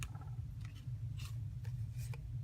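Several short crisp snips of non-stick scissors cutting paper embellishments for card making, spaced irregularly over a low background hum.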